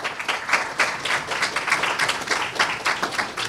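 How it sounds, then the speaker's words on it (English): Brisk, fairly close clapping from an audience at an International Men's Day awards ceremony, a steady patter of hand claps lasting a few seconds with no talk over it. "that deserves a round of applause"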